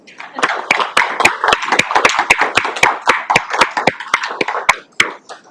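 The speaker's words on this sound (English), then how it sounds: "we give a round of applause and appreciation for Clerk Klein." Council members in a meeting chamber give a round of applause for the clerk: a small group's distinct, close claps in a quick uneven rhythm, lasting about five seconds before trailing off.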